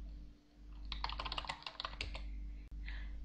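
Rapid keystrokes on a computer keyboard as a command is typed into a text-based online game, a dense run of clicks over a steady low hum, then a brief pause and a short final burst.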